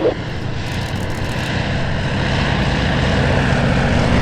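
A propeller airplane drones overhead at EAA AirVenture Oshkosh, a steady, fairly loud engine hum that swells slightly as it passes, with no voices.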